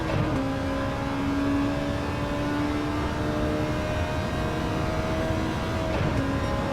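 Race car engine revving under throttle in Gran Turismo 7, a loud continuous drone with a rising and sliding tone, roaring steadily close up for several seconds with no talk.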